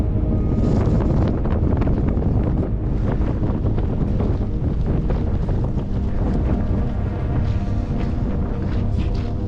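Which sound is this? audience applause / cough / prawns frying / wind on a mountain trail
wind on a mountain trail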